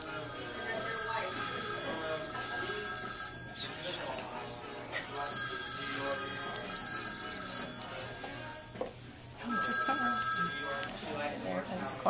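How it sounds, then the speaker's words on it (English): A mobile phone rings in a hair salon, a repeating electronic ringtone in bursts under ongoing talk. "that was Jean's lovely phone just went off"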